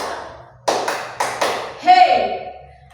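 Four sharp hand claps in a quick uneven group, close and loud, followed by a short vocal shout; a voice speaks just before, in a classroom clapping game.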